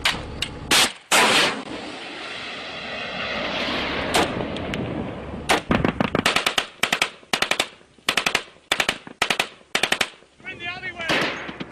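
Heavy gunfire during combat in Afghanistan, with a Javelin missile launch amid a long rushing roar, followed by sharp bursts of machine-gun fire in rapid clusters, loud and close.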